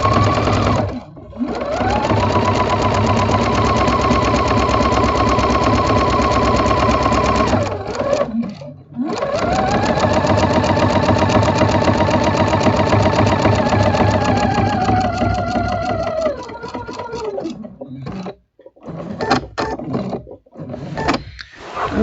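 Sewing machine stitching quilt fabric, loud and close, with long runs of rapid needle chatter and motor whine separated by brief stops, then shorter stuttering bursts toward the end, no voices.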